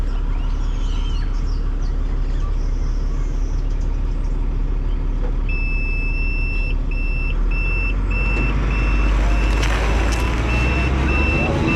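A truck stuck in sand in Senegal gives a regular series of high reversing beeps that start partway through and keep repeating over a low engine rumble and outdoor background noise.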